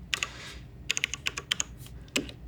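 Keys on a theatre lighting console keyboard are tapped to enter a cue number, giving quick light clicks in short uneven bursts, close and fairly quiet, with no voices.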